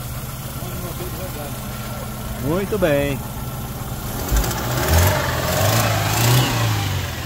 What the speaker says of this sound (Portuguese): o amigo vai dar partida aqui no motor pra gente escutar ele funcionando